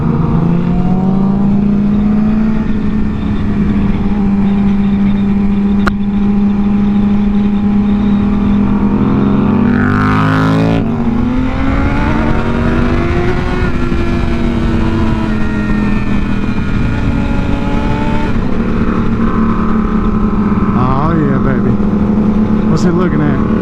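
A Yamaha FZ motorcycle engine drones loudly and continuously on twisty roads, its pitch rising and falling through gear changes and revs, with wind noise throughout and talk over the top.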